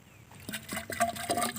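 Water poured into a bamboo tube to rinse out the inside, heard as short splashing pours in quick bursts, close and moderately loud, with no talk.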